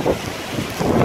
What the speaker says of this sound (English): That was a little gust.